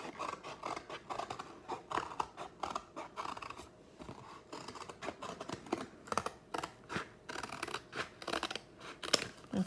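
Scissors snip repeatedly through paper while an owl shape is cut out, with crisp, close cuts coming in uneven bursts and short pauses and no voices.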